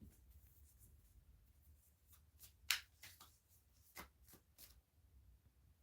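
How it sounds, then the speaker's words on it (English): Tarot cards are shuffled in quick, crisp riffles and taps, a burst of snappy flicks in the middle, close and quiet. "Let's get them all shuffled in properly."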